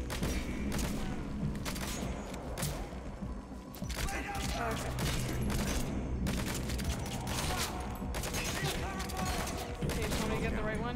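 Rapid gunfire from Metal Gear Solid V: The Phantom Pain, dense overlapping shots and bursts crackling steadily throughout at close range, mixed with game effects and a voice speaking at times.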